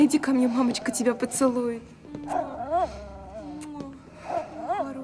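A small dog yips and whimpers in short bursts, close by, underneath someone speaking affectionately in Russian during a domestic comedy scene.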